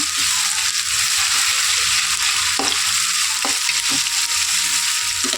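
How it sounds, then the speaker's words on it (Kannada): Egg fry masala sizzling steadily in a hot pan after ginger-garlic paste goes in, a continuous loud frying hiss with occasional stirring scrapes and no talk. "ಇದು ಹಸಿ ವಾಸನೆ ಹೋಗೋವರೆಗೆ ಚೆನ್ನಾಗಿ ಫ್ರೈ ಮಾಡ್ಕೊಳ್ಳೋಣ"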